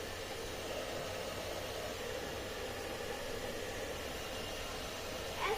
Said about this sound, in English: I am going to test this from hair dryer